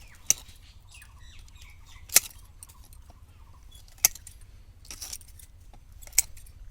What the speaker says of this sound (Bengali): এই কুশিগুলো ধারালো শিকেচার দিয়ে আমরা এভাবে কেটে দিচ্ছি।